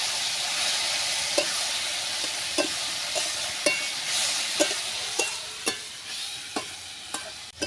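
Ridge gourd and potatoes fry with white mustard and cumin paste, a steady close sizzle and hiss broken by a dozen sharp spatula scrapes and stirs against the pan.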